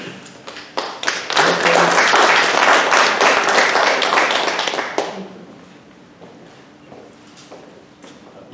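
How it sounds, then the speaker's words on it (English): Audience applause at a historical commission public meeting, a dense wash of clapping hands that holds steady for about five seconds, then drops away to scattered claps and quiet room noise. "We may move a little bit faster if we stop the applauding."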